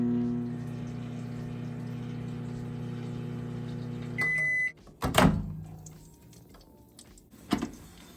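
A microwave oven heating a bowl of oil hums steadily with its electrical drone, then ends with a beep, a door clunk and a few handling knocks nearby.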